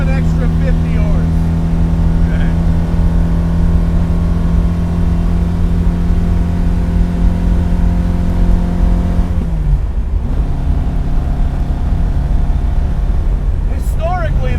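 Modified 1966 Alfa Romeo Giulia GT engine droning steadily while being driven, its note holding level and then dropping abruptly near the end as the driver shifts, with talk over the top throughout.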